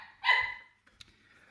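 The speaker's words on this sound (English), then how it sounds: "I have two little puppies and they're barking." A small puppy gives one loud, high yelping bark, followed by a fainter brief yip a moment later, with quiet room tone around it.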